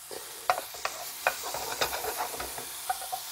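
Shiitake mushrooms fry in a pan, a close, crackling sizzle with repeated sharp pops and stirring scrapes over a soft steady hiss.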